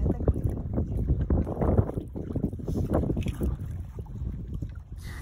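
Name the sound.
riding in a boat on the water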